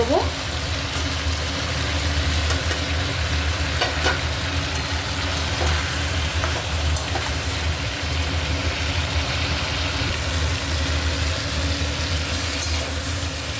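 Fried pumpkin pieces and chickpeas being sautéed in a pan for an Indian potato, pumpkin and pointed gourd curry, a continuous sizzle over a low steady hum, with occasional faint scraping.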